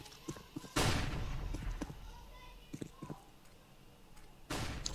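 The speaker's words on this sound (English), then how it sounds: "Flashbang." A flashbang grenade goes off in CS:GO with a loud, sharp bang, followed by a ringing wash of noise and scattered gunfire and footsteps, and a second blast near the end.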